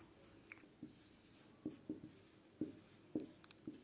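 Chalk or marker strokes on a classroom board during a physics lesson come as a series of short scratchy taps and squeaks, irregular and fairly close, with no talking.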